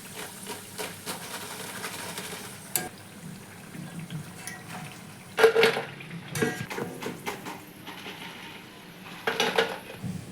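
Fried potato pakoras being lifted out of hot oil, with a steady sizzle of frying, metal clinks against the pan and a few louder scraping bursts, close up with no talk.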